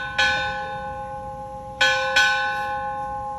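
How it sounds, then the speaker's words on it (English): A ship's bell strikes four bells at a US Navy retirement ceremony. Three sharp, ringing strikes are heard, the first alone and the last two close together as a pair, each resonating clearly in a quiet room. "Bosun, strike 4 bells."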